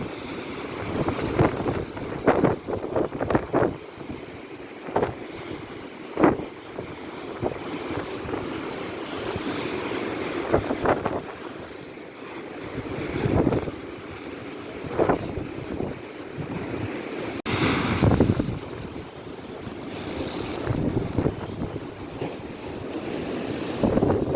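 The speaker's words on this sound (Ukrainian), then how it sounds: "А штормить добряче, ви самі бачите, які хвилі." Stormy Black Sea waves surge and crash at a pier in Odesa's Arkadia, heavy wind buffeting the microphone in gusts, with repeated bursts of surf breaking close by.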